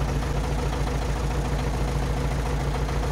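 An MTZ-80 tractor engine idles steadily with a low, even diesel chug, close and continuous, with no voices over it.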